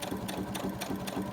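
A sewing machine runs steadily, stitching across a laminated file folder pocket with a fast, even mechanical whir and rhythmic needle pulses, fairly quiet and close, without talk.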